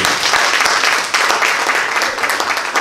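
A crowd applauding steadily, a dense wash of many hands clapping throughout, fairly loud and close.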